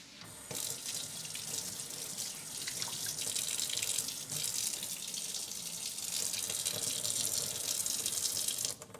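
Water runs steadily from a kitchen tap while a sauce is being prepared, a continuous broad hiss that stays loud and even for several seconds without a break.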